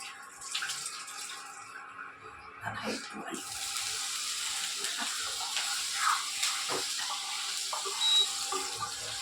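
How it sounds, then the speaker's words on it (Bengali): Tap water runs into a kadai as the cooking pan is rinsed, a soft steady hiss of flowing water with a few clinks and splashes. People talk quietly nearby. "ওই যে ধুয়ে নিলাম কড়াটা"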